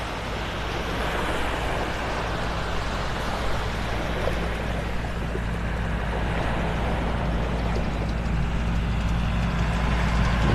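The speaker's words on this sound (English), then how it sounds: "John Deere raking off the beach." On a Naples, Florida beach, a John Deere beach rake tractor drones steadily as it rakes the sand, a loud, constant low engine rumble with surf and wind noise mixed in.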